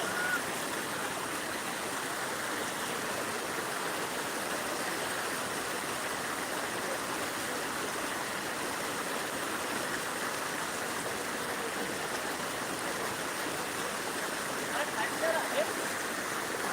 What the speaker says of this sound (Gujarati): પાટણ સરસ્વતી બંને કોઠે વહી રહી છે